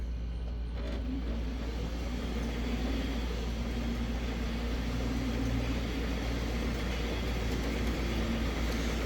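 An electric Jeep CJ-7 conversion rolling along in fourth gear and four-wheel drive, with a steady low motor hum and road rumble inside the cab, plus a faint whine, continuous throughout.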